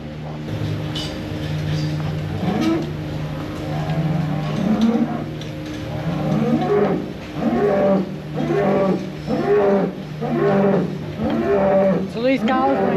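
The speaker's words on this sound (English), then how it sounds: "So these cows went straight for the feed." Cows moo repeatedly, with several deep, drawn-out lowing calls in a steady series under a low background hum.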